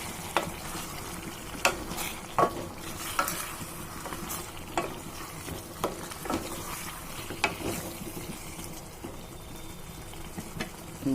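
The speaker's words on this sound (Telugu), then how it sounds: "ఇప్పుడు ములక్కాడ ముక్కలు కూడా వేసుకుందాం. ఒకసారి కలుపుకుందామండి" Drumstick pieces stirred into fried tomato paste for a masala curry, a bubbling sizzle under repeated sharp scrapes and knocks of a spoon against the pan, close and fairly quiet, without speech.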